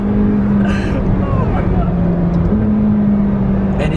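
A McLaren 720S without sport exhausts, its engine and exhaust giving a loud, sustained droning roar close by that holds steady with a slight shift in pitch midway.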